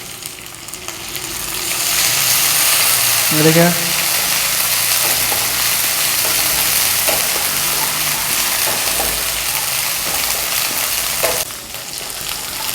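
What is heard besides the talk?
frying onions with ginger garlic paste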